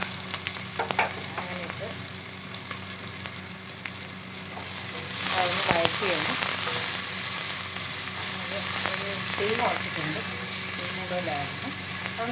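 Shallots and green chilies for mutton curry sizzle and fry in hot oil, a steady close crackle that grows louder partway through, with occasional stirring clinks.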